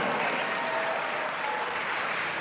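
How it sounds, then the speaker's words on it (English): A full, even round of applause from a large audience at a network marketing speakers event, sustained and loud throughout with no pauses. "Let's give a round of applause to Eric Worre and Marina for making this, their whole team, a tremendous production."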